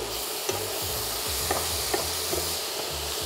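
Curry spice stirred into a frying pan on a lowered hob, a steady close sizzle with a spoon scraping and clicking against the pan every second or so.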